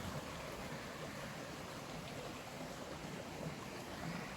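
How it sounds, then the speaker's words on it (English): Steady broadband rush of water flowing through a small stream in a cleared drain ditch, continuous and fairly loud, with no voices. "It's like a little river here, a little stream."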